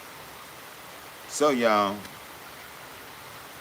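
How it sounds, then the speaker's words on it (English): Steady rain falls outdoors on plants at a village garden, a soft even hiss throughout, with a brief spoken phrase rising over it midway. "see it's raining now, huh?"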